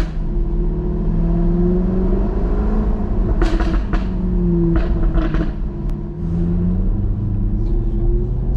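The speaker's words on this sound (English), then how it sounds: "The exhaust note is definitely amazing on this thing." A Jaguar F-Type R rumbles as its engine revs rise and fall, with sharp exhaust pops and crackles breaking out in bursts over a deep, steady note.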